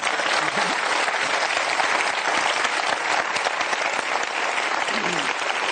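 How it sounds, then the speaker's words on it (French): Studio audience on a French television show applauding its guests; loud, dense, continuous clapping close up, with faint voices mixed in. "J'ai envie qu'on les applaudisse"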